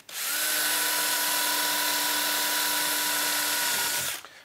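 A power drill spins up, runs at a steady high whine for about four seconds while drilling into a snowmobile trailer, then winds down; close and alone.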